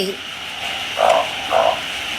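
Narrow-mouthed frogs give two loud, close, buzzy croaks about half a second apart, with a fainter call at the very start, over a quiet hum.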